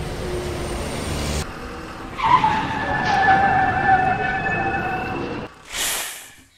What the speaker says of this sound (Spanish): todo sonido de automóvil o vehículo. Especialmente Optimus, en su modalidad trailer.